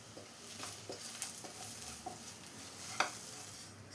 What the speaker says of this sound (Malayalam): ഇനി ഇതെല്ലാം കൂടെ ഒന്ന് മിക്സ് ചെയ്ത് ചൂടാക്കി എടുക്കണം